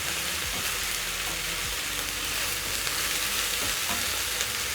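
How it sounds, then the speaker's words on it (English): Beef searing and frying in a hot pan for beef noodles, a steady dense sizzle and crackle filling the whole stretch, close and loud with no talking. "So as my meat sears"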